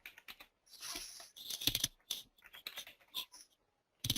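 Quick bursts of keystrokes on a computer keyboard as admin login credentials are entered, close and fairly clear with short pauses between runs of typing and a brief silence near the end.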